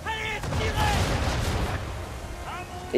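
Deep ship cannon booms from a video game, Assassin's Creed 3, rumble in a rapid volley, a heavy barrage of distant blasts with some voice breaking through near the end.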